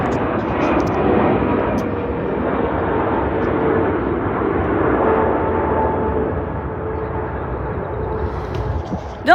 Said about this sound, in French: je vais attendre 2 secondes, il y a un avion